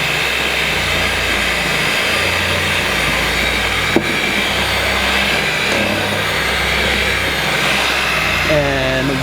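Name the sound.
electric mixer mixing oil at low speed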